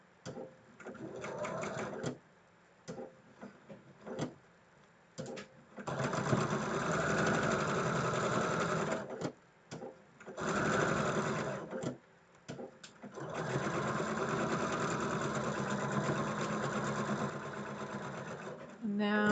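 A sewing machine stitches a quilt block in several long runs of steady whirring, broken by short pauses, with a voice talking over parts of it.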